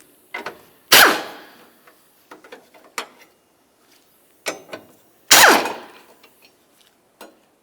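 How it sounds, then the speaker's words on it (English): Ratchet work loosening two 13mm-head bolts on the passenger side of a 2007-12 Nissan Sentra engine bay, heard as sparse clicks and metallic clanks with a couple of louder knocks, close by and without talk. "we're going to start removing these two 13mm headed bolts"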